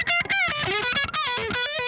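Loud distorted electric guitar amp bleeding out of an isolation cabinet during home recording, dense harmonic chords with sustained tone throughout, no talking.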